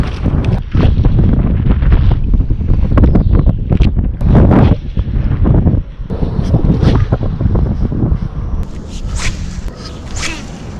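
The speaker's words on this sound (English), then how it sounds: "it's friggin' windy out there" Strong wind roars and buffets the microphone nonstop while out fishing on open water, with loud gusty rumble and no talking.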